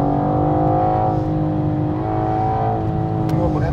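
A BMW M4 engine drones steadily with rising harmonic tones as it accelerates on the Nordschleife, loud and continuous, heard from inside the car with the engine note filling the whole stretch.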